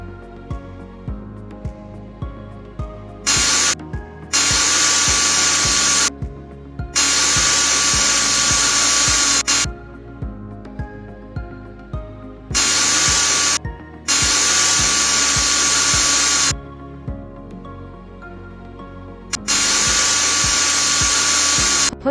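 A surgical drill in a virtual reality hip replacement simulation whirs in repeated loud, high-pitched bursts of a few seconds each. Quieter pauses fall between the bursts, with no talking.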